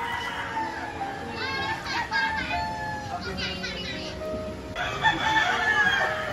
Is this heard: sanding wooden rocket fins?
no